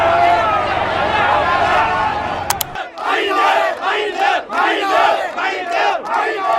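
A large crowd in Sri Lanka during the economic crisis shouts and screams in dense, loud, surging waves, with a brief sharp click midway.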